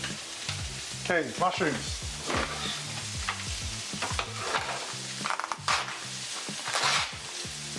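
Scotch fillet steak sizzles in a pan, a steady close frying hiss with scraping and stirring clatter throughout while a person briefly speaks.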